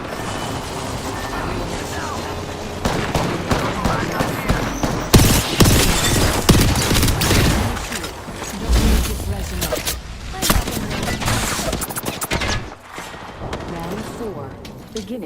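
Bursts of gunfire in the battle royale game Apex Legends crackle in rapid volleys along with mechanical clatter and in-game effects, loud and dense through the middle, under game voice lines and chatter.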